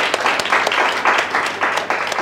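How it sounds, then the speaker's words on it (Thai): A classroom of students clapping for their class leader, a broad, uneven burst of hand claps at moderate distance with faint voices mixed in. "เอาปรบมือให้หัวหน้าชั้นหน่อยครับ"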